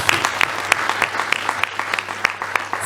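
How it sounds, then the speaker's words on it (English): Audience applause at a public forum, a steady clatter of clapping hands with sharp individual claps popping out, loud and close. "Please give him a round of applause."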